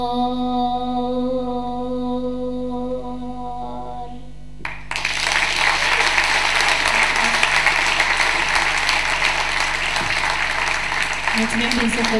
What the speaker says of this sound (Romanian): Mulțumim din suflet pentru aplauze și pentru încurajare.